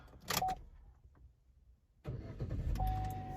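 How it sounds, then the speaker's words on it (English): A Buick Encore cranks and fires up after a new flip-key fob is programmed, a short starter whir settling into a steady idle hum with a faint chime, close and clear with no talking. "Let's go ahead and test to start."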